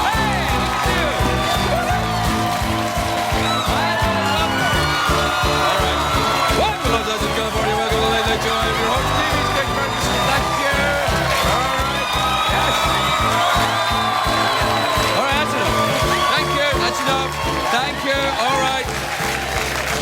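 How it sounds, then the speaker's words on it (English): Late-night television studio audience claps, whoops and cheers loudly and continuously for about twenty seconds as the host is introduced, a thick crowd roar with shouted calls throughout and some talk mixed in. "And your applause is dying away quite naturally."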